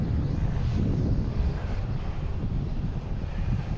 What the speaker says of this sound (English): We should get a JetBlue taking off an A220, flight 1355, heading to Reagan